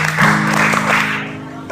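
An audience gives a short burst of applause, a dense patter of clapping that fades out after a moment, with a voice speaking over it.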